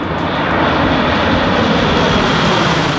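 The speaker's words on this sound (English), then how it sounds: "here comes the C130 back to base" Lockheed C-130 air tanker engines roar as the aircraft returns to base, a loud, steady propeller drone with a broad rushing wash and no voices, holding constant throughout.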